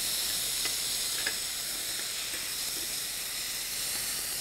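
Tomatoes and onions sizzle and hiss steadily in hot oil on top of urad dal, a close, continuous frying crackle with a few brief stirring scrapes.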